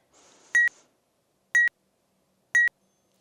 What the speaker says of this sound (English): close your eyes, wait for the buzzer